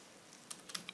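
A few quick keystrokes tapped on a computer keyboard while entering a terminal command on an Ubuntu machine, soft and close in a quiet room.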